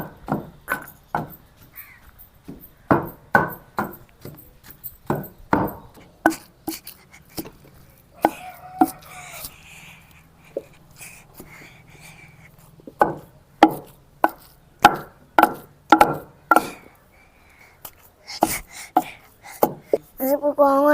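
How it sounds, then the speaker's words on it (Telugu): Fresh green gongura (sorrel) leaves pounded coarsely in a stone mortar, a village-style chutney. Sharp, irregular thuds repeat steadily in close, loud bursts with brief pauses, some quieter mashing between strikes, and no talking. "ఈ గోంగూర కూడా కచ్చపచ్చనే తొక్కోవాలి"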